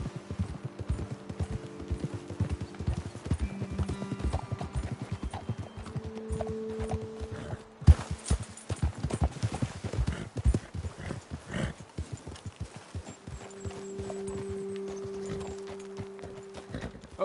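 In a PS4 video game, horses walk with a steady, uneven clip-clop of hooves, fairly close and continuous, alongside low tonal game music and brief in-game dialogue.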